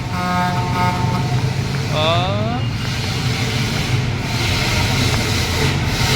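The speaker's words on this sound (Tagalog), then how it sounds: "Nauso yung ganyang busina mga kabukals." A vehicle horn toots a couple of times amid steady road and engine noise, close by.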